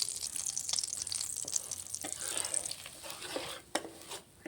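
Semolina roasts in a spoonful of ghee in a pan over a low flame, giving a soft continuous sizzle and hiss with occasional stirring scrapes and a sharper clink near the end. No one speaks.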